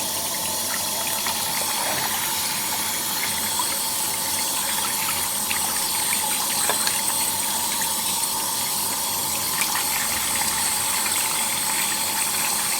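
Water poured down an open valve into an air compressor gushes and gurgles steadily at close range, a continuous rushing flow with faint metallic rattling.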